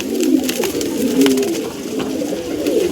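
Andhra breed pigeons coo steadily and close by, a continuous run of soft, throaty calls from several birds overlapping without a break.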